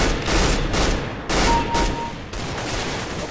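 A Negev machine gun in CS:GO fires long sustained bursts, loud and dense, broken by brief pauses between strings of rapid shots.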